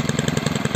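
Zenoah G300 small two-stroke engine running smoothly after a carburetor cleaning, a rapid even putter close up and fairly loud with no voices.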